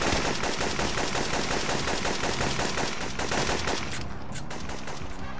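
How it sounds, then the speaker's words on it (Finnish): Rapid continuous machine-gun fire in the video game Syphon Filter 2, a dense loud rattle that holds steady throughout. "No niin, nyt aletaan ampumaan kerrankin."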